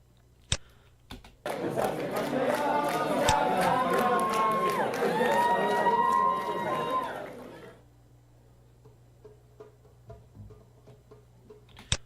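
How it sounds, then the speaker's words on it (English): Crowd singing and dancing at a dinner event, a burst of loud voices with cheering and group singing that swells for several seconds, then fades out, leaving faint ticking. "So the last thing we had was the crowd singing and dancing"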